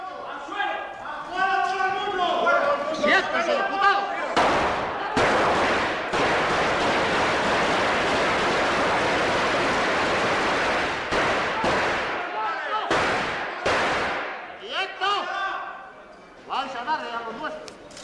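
Archival recording from the Spanish Congress during the 23-F coup attempt, with long bursts of automatic gunfire filling the chamber and loud shouting voices before and after the shots.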